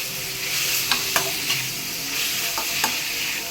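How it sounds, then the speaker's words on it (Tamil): Prawns sautéing in a pan for a prawn puttu dish, a steady bright sizzle with a few sharp spatula scrapes and clinks as they are stirred, close and alone with no talk. "லைட்டாக ஒரு 5 நிமிஷம் கொஞ்சம் இதை நல்லா வதக்கலாங்க."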